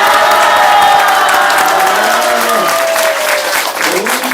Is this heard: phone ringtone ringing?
no